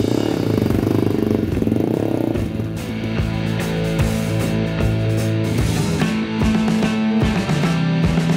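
A Gilera G1 250 Scrambler motorcycle engine and exhaust rumble loudly and steadily while riding, with a dip around the middle and rising, revving tones toward the end, with no voices.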